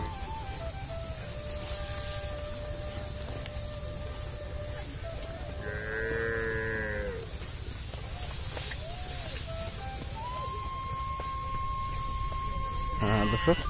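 A cow lows once with a drawn-out moo inside a livestock shed in a remote char village of Rajshahi, Bangladesh, set against a constant low background hum and scattered faint noises.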